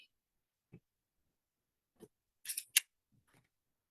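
Scissors snip through quilt block fabric in a few sharp, separate cuts, with short pauses and a quick pair of snips near the end, close and quiet.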